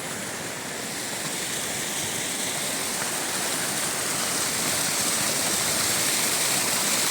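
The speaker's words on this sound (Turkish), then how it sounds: "Sadece bir çeşmenin suyudur" Water pours continuously from a mountain village fountain, a loud, dense, steady rush heard close up with no voices.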